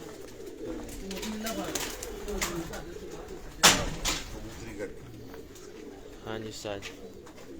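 Chinese pigeons cooing in a fancier's loft, soft repeated coos under men's conversation, with a sharp flutter or clap near the middle and rustling movement.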